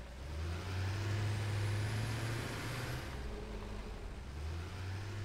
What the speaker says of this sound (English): Confused truck noises.